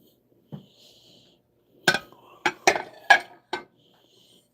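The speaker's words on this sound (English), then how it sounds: "I love picking up plates like this" Ceramic plates are picked up and set down, giving several sharp, separate clinks and knocks at close range against near silence.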